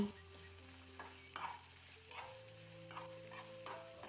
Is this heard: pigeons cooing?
no